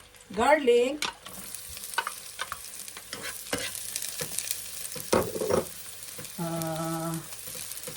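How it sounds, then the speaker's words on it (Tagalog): Garlic frying in hot butter and oil for chicken adobo, a steady close sizzle with stirring scrapes and spoon clatter against the pan, plus brief bursts of other kitchen noise. "a little butter, oil. Mainit na siya guys. Lagay na natin ang garlic."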